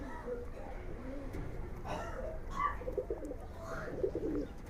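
Giribaz pigeons coo in low murmuring phrases within a loft, moderately close, with a voice talking over much of the cooing.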